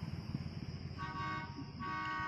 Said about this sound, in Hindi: ये देखिए इस ऐप से हॉर्न की आवाज़ आ रही है